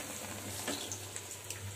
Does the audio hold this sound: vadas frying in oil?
yes